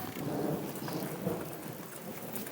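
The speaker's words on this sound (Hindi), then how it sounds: "बारिश भी काफ़ी ज़्यादा शुरू हो गई है। बारिश ये चेक करें काफ़ी ज़्यादा तेज़ है।" Heavy rain pours down in a dense, steady roar, with a low rumble swelling under it partway through; no voices.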